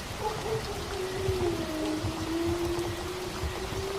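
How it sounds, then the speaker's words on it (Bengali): Heavy cartoon storm rain pours as a dense, steady hiss, with a thin whistling tone sliding through it and no voices. "শুধু কি বৃষ্টি আর বৃষ্টি রে ভাই।"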